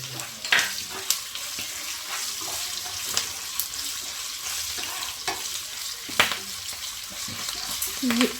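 Green chillies fry in oil for pulihora, a continuous soft sizzle broken by sharp clicks and scrapes of a spoon stirring in the pan.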